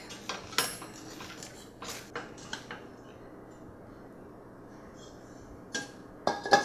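Metal knife scraping and clinking against the rim of a pan of buttermilk pound cake, with a few sharp taps early on, then near quiet before a couple of final clinks.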